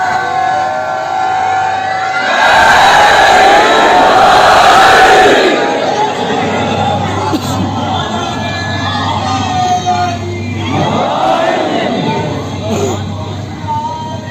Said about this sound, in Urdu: دونوں ہاتھ بلند کر کے پوری طاقت سے نعرے کا جواب دے گا